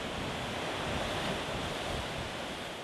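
Strong ocean surf at Canggu Beach in Bali, a steady dense roar of breaking waves mixed with gusting wind buffeting the microphone, loud and continuous with no voices.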